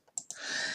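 Two quick, crisp computer mouse clicks close up, followed by a soft sustained hiss, as table cells are split in Word.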